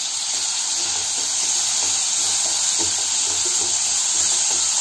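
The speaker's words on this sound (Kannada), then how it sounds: "ಕಾದಿದೆ ನೋಡಿ ಎಣ್ಣೆ ಕಾದಿದೆ ಇದಕ್ಕೆ ಬೆಳ್ಳುಳ್ಳಿ ಹಾಕ್ತಾ ಇದೀನಿ" Garlic, onion and capsicum frying in hot oil, heard as a steady, loud, even hiss of sizzling that holds without pause.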